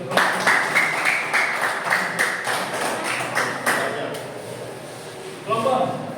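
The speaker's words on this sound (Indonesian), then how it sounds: "Tepuk tangan dulu ya." Classroom applause from a group of students, a few seconds of fairly close clapping that fades out, followed by a teacher's voice speaking.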